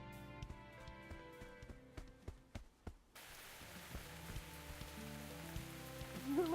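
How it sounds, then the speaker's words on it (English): Rain falling in the video game Dyscourse, a faint patter with scattered sharp drop ticks at first, then settling into a soft steady hiss. "Of course, it had to start raining just before we got here."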